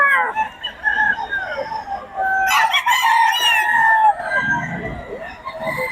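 A sweater gamefowl rooster crows loudly and nearby at a Bocaue market, with clucking and other fowl around, while people talk in the background.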